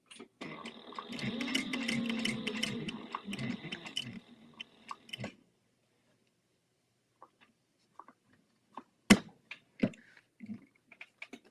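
A home sewing machine stitching thin fabric, a fast whirring mechanical run for about five seconds, then quiet with scattered clicks and taps of handling afterward.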